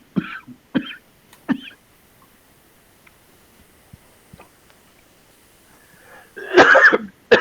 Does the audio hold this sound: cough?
yes